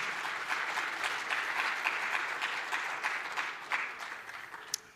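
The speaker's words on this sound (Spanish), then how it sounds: "Démosle palmas al Rey" Church congregation clapping in praise for Jesus during a Spanish-language service, a dense steady wash of applause held for several seconds, fading slightly toward the end, with a sharp single clap near the close.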